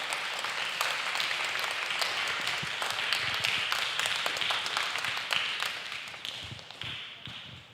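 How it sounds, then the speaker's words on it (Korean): A church youth congregation gives a pastor a warm welcome with sustained clapping. The applause is loud and steady, then slowly thins out toward the end. "우리 나오실 때에 힘내시라고 큰 격려의 박수 한번 드리고"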